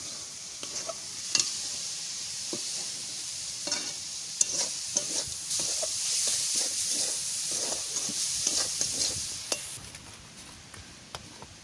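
Steady frying sizzle of coconut with repeated scraping stirs in a pan, continuous and close, no voices.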